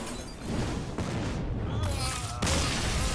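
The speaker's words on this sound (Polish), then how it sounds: "Eksplozja lawy." A Lava Burst spell explodes in the Hearthstone card game, a loud fiery blast with crackling rumble lasting several seconds and a second burst near the end.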